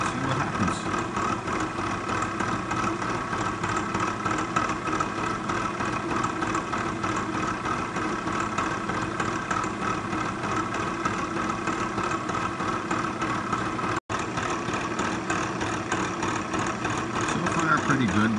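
A machine takes a very light skim cut on the worn teeth of used gears, giving a steady mechanical drone and whir that runs continuously at moderate level, with someone talking over it.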